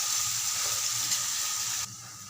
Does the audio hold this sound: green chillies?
yes